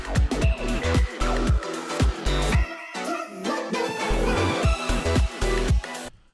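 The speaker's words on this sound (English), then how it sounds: "Like that sounds like an orchestra, right?" Thick layered orchestral strings and brass from sample libraries, playing loud sustained chords over punchy low hits, dense and full throughout with no voices.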